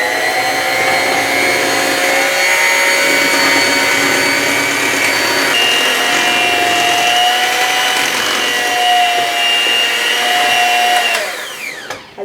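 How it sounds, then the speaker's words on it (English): An electric mixer runs on low, mixing sweet potatoes in a bowl with a steady motor whine that holds evenly for about eleven seconds before switching off. "get it a little bit incorporated before I turn the mixer on"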